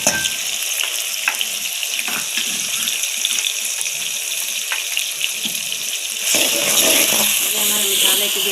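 Onions, tomatoes and ginger-garlic paste fry for a turnip curry, giving a steady loud sizzle close by. Scraping and stirring noises run through it, and the sizzle swells louder near the end.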